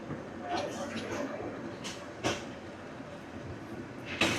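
Tista Express pulls into platform 1 at Mymensingh railway station, with a steady rolling rumble, several sharp metallic hisses and clanks, and faint voices in the background.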